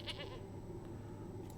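A goat bleats inside a Magic card video game, a short bright bleat at the start over a steady low background hum, followed by faint game tones.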